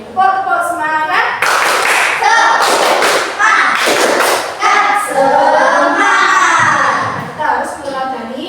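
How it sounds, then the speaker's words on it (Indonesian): A class of schoolchildren does a rhythmic spirit clap together in a classroom, with bursts of clapping and thumps mixed with loud children's voices chanting along, close and energetic throughout. "Tepuk semangat."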